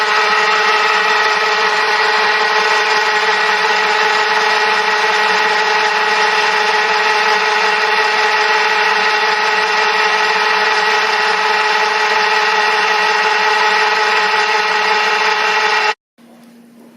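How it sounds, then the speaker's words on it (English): A power drill whines at a steady high pitch for about sixteen seconds, loud and close, boring a pilot hole in a brake block for a model railway locomotive, then stops abruptly. "positioning the centre mark with the drill, we are going to drill a pilot hole."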